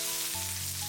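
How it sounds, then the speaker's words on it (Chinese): Green beans stir-fried dry in a little oil in a wok, a steady close sizzle with low humming tones underneath, short and continuous, with no talking. "锅裡底油，下入準備好的四季豆"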